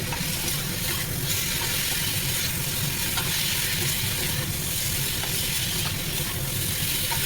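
Kochur loti with shrimp and spices sizzles loudly and steadily in a pan while being stirred, a dense hiss with faint scraping throughout.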